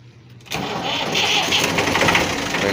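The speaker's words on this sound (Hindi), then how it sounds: "ट्रैक्टर स्टार्ट थी गए" A tractor engine cranks and catches after a brief quiet moment, then settles into a loud, rough, steady running rumble close by.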